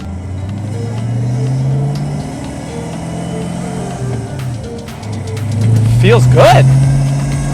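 A car engine runs close by and rises and falls in pitch as it revs, swelling sharply near the end, with a person speaking briefly over it.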